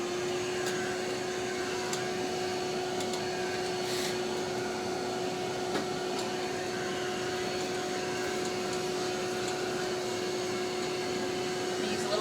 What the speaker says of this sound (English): I'm going to use it to blow dry around on her head without the pressure nozzle on it.